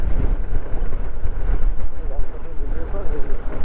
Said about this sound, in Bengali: দারুণ হাওয়া দিচ্ছে, দারুণ হাওয়া দিচ্ছে।